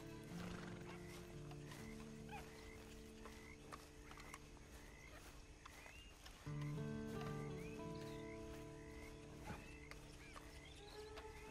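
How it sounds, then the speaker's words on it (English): A horse in the Red Dead Redemption 2 video game whinnies several times between steady clip-clopping hooves, with croaking frogs and other night wildlife chirping around it and no voices. "And you better get on this horse."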